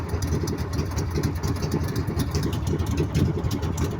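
Honda engine on a service boat fitted with a racing carburetor, running at a steady idle with a low, even rumble and faint pulsing, close and unbroken with no voices.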